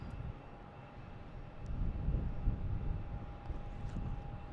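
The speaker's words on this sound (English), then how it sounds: "we got Delta lined up in the pole position. 737-900 heading to Cancun" A Delta Boeing 737-900 airliner lined up for departure at Boston Logan Airport in snowy weather: a distant, low engine rumble that swells slightly midway, with a steady whine above it.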